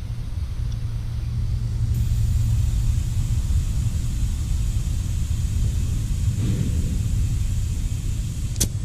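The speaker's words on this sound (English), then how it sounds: "Now I'm gonna air the tire back up." Steady air compressor rumble and hiss runs throughout while a nail-patched tire on a Nissan Frontier pickup is reinflated, continuous and fairly loud, with a brief hiss burst near the end.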